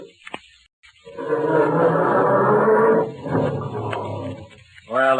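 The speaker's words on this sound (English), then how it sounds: "how does your motor sound when you try to start it on these frosty November mornings?" A car engine cranks on a frosty November morning with a slow, heavy grinding for a few seconds, labouring as if reluctant to catch, with a brief click before and a rumble after.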